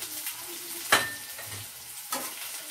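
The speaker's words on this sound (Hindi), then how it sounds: "प्याज को थोड़ा सा ब्राउन होने तक हम भून लेंगे" Finely chopped onion frying with bay leaf, black cardamom, cloves and crushed black pepper for rajma, giving a soft steady sizzle with a sharp clatter of stirring near the one-second mark and another at two seconds.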